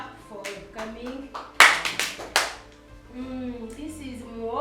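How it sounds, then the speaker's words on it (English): Members of a women farmers' association clapping to welcome visitors at their new office, a short burst of hand claps rising suddenly amid ongoing talk and voices. "I think members, we can give a clap for coming."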